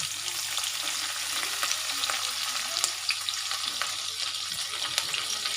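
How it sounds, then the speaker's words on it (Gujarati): Green chillies and cumin seeds crackle in hot oil for a tempering while sabudana khichdi is cooked. A dense, continuous sizzle hisses loudly throughout, with faint stirring. "આપણે જીરાનો વઘાર કરીશું તો આપણે એક ચમચી જીરું એડ કરીશું હવે આપણે અંદર લીલા મરચાને એડ કરીશું"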